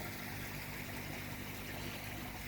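Water from a shower sprays steadily into a koi vat, a dense continuous hiss and splash that fills the whole stretch without a break, close and fairly loud, with no voices.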